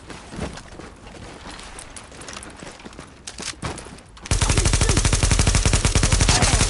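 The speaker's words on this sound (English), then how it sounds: "Keep firing at him." Gunfire in Tom Clancy's The Division, with scattered shots over a muffled background that suddenly give way to a loud, rapid, sustained automatic burst, evenly spaced and close, with no talking.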